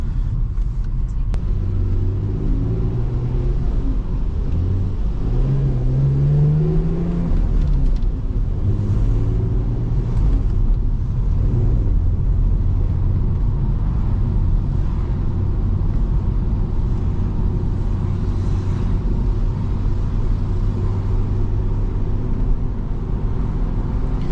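A worn, broken-down BMW E46 330Ci coupe being driven, with a steady loud engine and road rumble throughout and a few rising tones as it accelerates through the gears.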